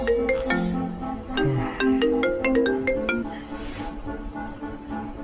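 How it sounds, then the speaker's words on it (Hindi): A mobile phone ringtone plays a bright, repeating melodic tune, loud and close, continuing steadily for several seconds with no voices over it. "एकदम से फिर मेरा फोन बजा।"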